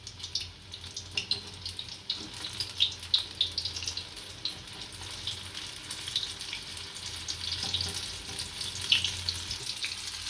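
Chili ring bhajiya, battered green chili rings, frying in hot oil, giving a steady crackling sizzle with bright bursts throughout and no talk.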